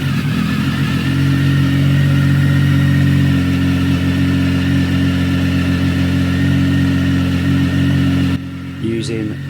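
A steady, loud three-cylinder Triumph Speed Triple motorcycle engine drones at a constant pitch, then drops off near the end as a brief voice-like sound comes in.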